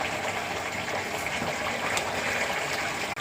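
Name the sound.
water gushing while washing baskets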